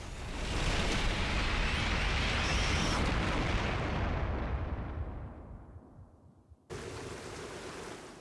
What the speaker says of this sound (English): That explosion was larger than I remember it being.